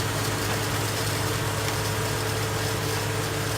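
A tractor-pulled tomato harvesting machine runs in a field, giving a constant, close, heavy engine drone with a steady low hum and vibration and no break in level.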